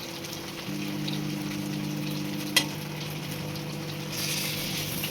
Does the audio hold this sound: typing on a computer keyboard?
no